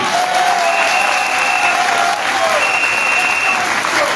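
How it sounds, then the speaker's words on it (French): Loud, dense crowd applause at a French-language political gathering during a presidential election campaign in Gabon, continuous clapping filling the whole stretch, with faint voices and a brief tone rising through it. "applaudissons-le"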